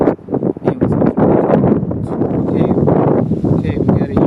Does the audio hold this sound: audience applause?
no